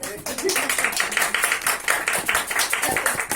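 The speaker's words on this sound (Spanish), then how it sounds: "Oye, un aplauso." An audience applauds at a book launch presentation with dense, steady clapping from many hands throughout, and a voice speaks over it.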